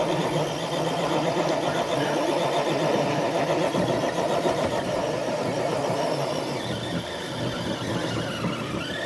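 Electric motor of a modified Redcat RC truck straining in a truck-pull competition, a steady, continuous mid-pitched whine with a faint squeal that holds level for about nine seconds, close and unbroken.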